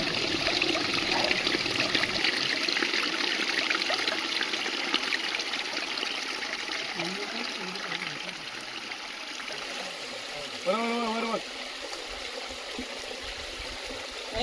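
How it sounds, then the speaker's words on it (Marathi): Steady rushing water from a forest stream fills the whole stretch, broadband and continuous, with a brief higher warbling sound near the end. "सुंदर असा पाण्याचा आवाज ऐकू शकता तुम्ही"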